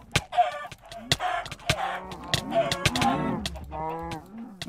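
Chickens cluck in rapid bursts in Minecraft on Hypixel Party Games, close and loud, mixed with sharp hitting clicks.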